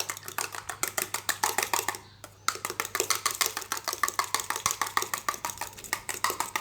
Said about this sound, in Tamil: நம்ம ஃபோர்க்கு யூஸ் பண்ணி பீட் பண்ணலாம்